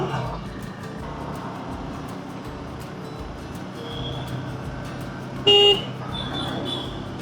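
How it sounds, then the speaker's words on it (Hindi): A KTM 390 Adventure motorcycle's horn gives one short, sharp beep over low road and traffic ambience. "ये हॉर्न"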